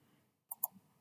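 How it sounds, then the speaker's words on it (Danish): Two quick computer mouse clicks in close succession, crisp and near, made while working in AlphaCam CAM software, with faint room hum around them and no talking. "Og jeg klikker."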